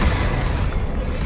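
Confringo explosion spell in Hogwarts Legacy, a short, dense, booming burst of low rumbling noise lasting about a second, close and full.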